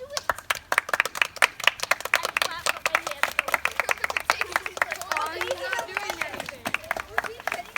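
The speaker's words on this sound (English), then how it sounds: "Can we all start clapping?" A group of people clap outdoors among a herd of horses, a quick, uneven patter of many hands that goes on throughout, with voices talking over it.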